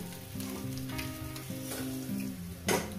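Pieces of parshe (mullet) fish frying in hot oil, giving a steady sizzle for the whole stretch beneath melodic background music, with a brief louder burst of crackle near the end.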